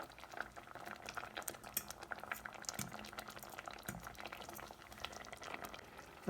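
Grape juice boiling in a pot on a stove, a steady bubbling and seething texture with scattered pops and small clinks, moderately close and continuous with no voices.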